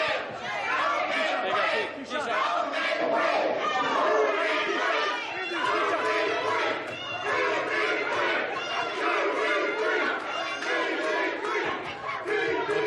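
Packed room at a boxing weigh-in roaring with chatter, shouts and chanting, a loud dense crowd din that stays constant throughout with voices on top.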